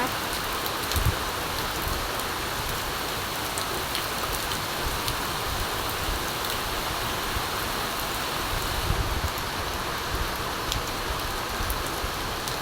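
Heavy rain pouring steadily on surfaces nearby, a constant dense hiss with occasional louder drips and splashes.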